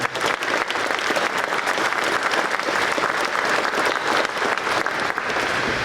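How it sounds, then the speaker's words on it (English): Sustained, loud applause from a seated audience at a military frocking ceremony, thick and even clapping that holds steady for several seconds without any speech. "So how about a round of applause for his entire family?"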